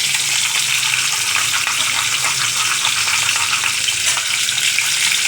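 Pieces of cardamom and nigella seeds crackle in hot oil as a tempering for yogurt-based pointed gourd curry, a loud, close, continuous sizzle that holds steady throughout.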